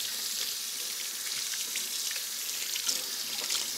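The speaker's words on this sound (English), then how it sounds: "I'm just gonna wash my hands." Hands are washed under a running kitchen tap in a steady, hissing stream of water that holds at an even level throughout, heard close with no speech.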